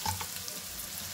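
Green chillies and onion frying in oil for a prawn fry, a soft, low sizzle with a faint clink near the start, close but quiet and brief with no talking.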